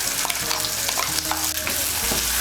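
Green pea paste is stirred into hot oil and ginger paste in a pan for a Bengali koraishutir kochuri filling, giving a dense, loud, continuous sizzle with repeated scraping strokes of the stirring spoon.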